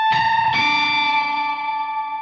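A sustained, shimmering electric guitar chord played through a DigiTech Whammy pitch-shift pedal with reverb swells, shifts to a new chord about half a second in, and rings out in a long, washy reverb tail.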